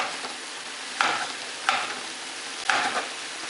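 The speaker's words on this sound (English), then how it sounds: "take my cooking utensil, my spatula, and I press down like this" Browned chicken in a hot pan being pressed down with a spatula, three distinct scraping presses against a continuous soft sizzle, close and fairly loud with no talking.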